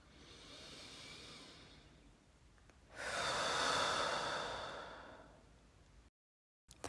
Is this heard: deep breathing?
yes